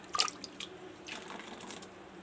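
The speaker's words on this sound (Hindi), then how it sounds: "थोड़ा सा हम इसमें पानी डालेंगे।" Water poured into a smooth blended drink, a brief splashing trickle at the start followed by softer liquid sloshing, close and fairly quiet.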